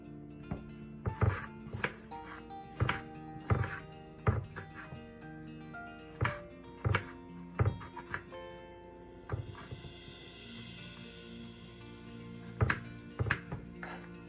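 A knife chops a tomato on a cutting board in a home kitchen, making crisp, fairly evenly spaced thuds, about a dozen over the stretch, set against a soft tonal background.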